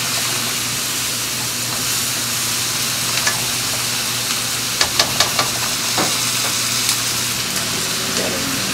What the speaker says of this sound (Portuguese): Agora a gente vai misturar tudo de novo.